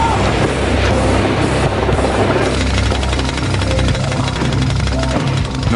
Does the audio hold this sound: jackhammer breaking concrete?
yes